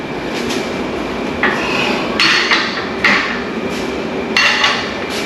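Tools clink and ratchet against metal while bolts are tightened on a pull-up bar, giving several sharp, close metallic knocks over a steady background hum.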